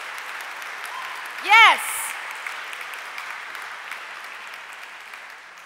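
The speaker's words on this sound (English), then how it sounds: "Give yourselves a round of applause for coming out on a Thursday." An evening audience at the Sydney Peace Prize award ceremony applauds: a soft, steady patter of clapping runs throughout, with a single voice briefly heard over it.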